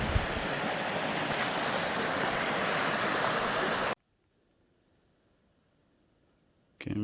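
Pike Creek flows in shaded canyon country along a Grand Canyon rim-to-rim trail, a loud steady rush of water that cuts off abruptly partway through, leaving near silence before the sound briefly returns at the end.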